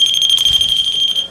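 A REM pod ghost-hunting device squeezed by hand gives one loud, continuous, piercing electronic beep lasting over a second. It sounds close and steady, with no talk over it.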